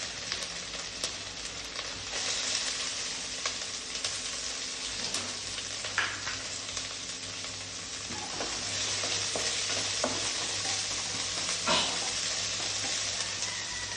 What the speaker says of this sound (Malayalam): നന്നായി ഇളക്കി കൊടുക്കാം ഉള്ളി നല്ല ബ്രൗൺ കളറായിട്ടുണ്ട്